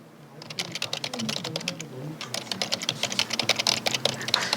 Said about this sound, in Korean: 키보드에 자판을 두드리는 소리가 사무실 정적을 깨며 분주하게 들려옵니다